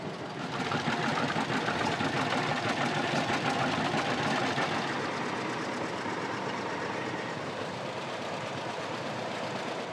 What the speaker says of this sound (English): you get all them pop-up tractors in the back and it's got a nice little beat to it